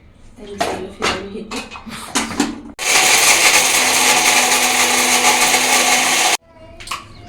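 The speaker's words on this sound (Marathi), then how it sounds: "याच्यामध्ये थोडं पाणी टाकून मिक्सरमध्ये फिरवायचं आणि नारळाची चटणी रेडी आहे" A mixer grinder whirs loudly for a few seconds in one steady burst, grinding coconut with a little water into chutney, with brief spoken talk before and after it.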